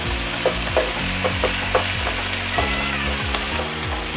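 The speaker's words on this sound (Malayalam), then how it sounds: "നമ്മളതിനകത്തേക്ക് 1/2 ടീസ്പൂൺ ഇഞ്ചി വെളുത്തുള്ളി പേസ്റ്റാണ് ഇട്ടേക്കുന്നത്" Ginger garlic paste fries in oil for a chicken gravy, making a steady close sizzle with light rhythmic taps of stirring and a faint tonal sound running underneath.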